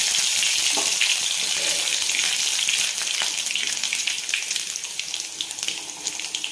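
Crushed garlic cloves sizzle in hot oil with cumin, with green chillies cooking for a besan pithla; a steady, loud, close frying hiss runs throughout, easing slightly toward the end.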